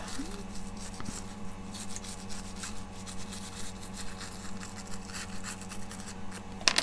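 A small brush presses and rubs over a metal cutting die to push out bits of cut paper, giving a soft continuous scratchy brushing close up, with a steady low hum underneath.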